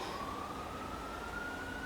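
An ambulance siren sounds outside, a steady rising wail heard faintly at a distance and alone, with no talk over it.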